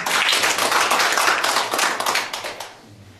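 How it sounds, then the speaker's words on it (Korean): Church congregation members give warm applause for a fellow member, a loud flurry of close hand claps that fades away over the last second. "주순옥 교우님 여러분 뜨거운 박수 보내주시죠"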